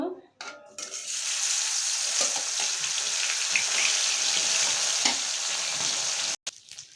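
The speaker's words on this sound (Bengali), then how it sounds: "এখন আমি মাছগুলো ভেজে নেব।" Snakehead fish sizzle loudly in hot oil in a wok, a steady close hiss with occasional clinks of a utensil against the pan.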